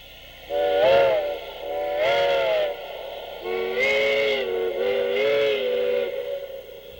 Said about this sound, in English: From here on, the train blasts its way up the hill to Cumbres.